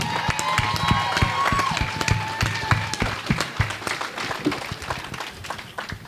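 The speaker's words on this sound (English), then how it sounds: "A round of applause to Frankie Diamond." A fan convention crowd applauds Frankie Diamond of Sons of Anarchy at a Steel City Con panel, with sustained clapping, sharp individual claps up close and faint cheering and a voice in the mix.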